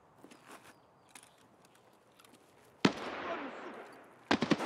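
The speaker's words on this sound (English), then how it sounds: "I'll shoot him once for you." Gunfire from the video game Escape From Tarkov, with a loud sharp report at about three seconds followed by a rough tail, then a close burst of several quick shots near the end, over faint background game noise.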